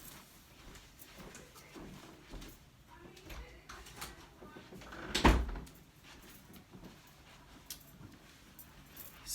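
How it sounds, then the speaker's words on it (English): A house door is shut once with a single loud thud partway through, against faint room noise and some background household activity. "I'm gonna go shut the door."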